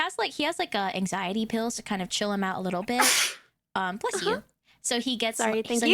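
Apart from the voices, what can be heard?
sneeze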